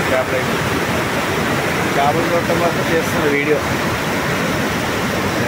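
Heavy water flow rushes through the Dowleswaram barrage on the Godavari near Rajahmundry as a loud, constant roar of broadband noise, with someone talking over it.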